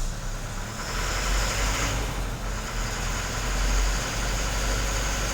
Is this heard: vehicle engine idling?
yes